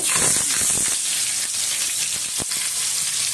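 Curry leaves and garlic frying in hot oil for a fish fry, giving a loud, dense, steady sizzle and hiss with small crackles and pops throughout.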